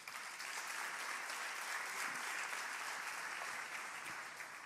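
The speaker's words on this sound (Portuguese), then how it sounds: "Dê um aplauso a Jesus" A church congregation applauding steadily, dense clapping heard at a moderate distance with no talking over it.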